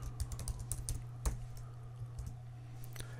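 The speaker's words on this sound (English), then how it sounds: "So I can do that by going to the command window here and typing test parm I dot" Rapid, uneven keystrokes on a computer keyboard as a command is typed, close and fairly quiet over a low steady hum, with one sharper key press near the middle.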